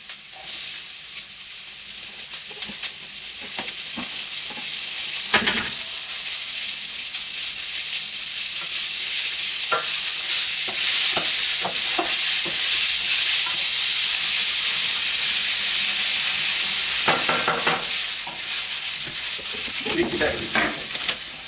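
Onions sizzle steadily in a hot pan for a creamy minced-meat spaghetti, with a loud continuous hiss and frequent scraping stirs of a utensil against the pan.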